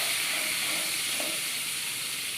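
Crab sizzles in hot oil with a steady, hissing fry, an even broadband crackle at moderate level with no voices over it.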